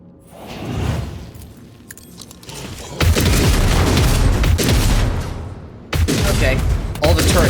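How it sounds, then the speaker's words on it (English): Turrets blow up in Warhammer 40K Rogue Trader with heavy, booming explosions, a rumbling burst at about three seconds and another at six, each sustained and loud, with softer crackling blasts before them. "all the turrets explode when she dies, at least"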